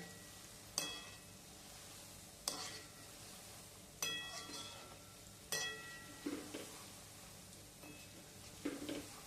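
Gulab jamun frying in oil in a pan are stirred with a utensil, producing a handful of sharp metallic clinks and scrapes spaced a second or two apart over a faint sizzle, close and quiet with no speech.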